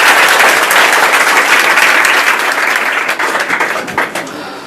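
Loud, sustained applause from a crowd at a school gathering honoring a top-scoring student, dense clapping that holds steady and then gradually thins toward the end.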